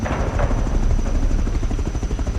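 Minicopter helicopter in the video game Rust, a steady loud rotor and engine drone running continuously throughout with a low rhythmic thumping, mixed with faint gunfire-like pops.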